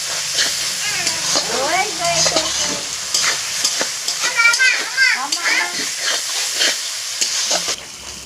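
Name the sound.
spice paste being fried and stirred for fish curry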